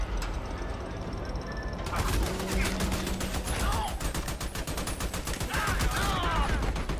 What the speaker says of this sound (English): So I'm shooting.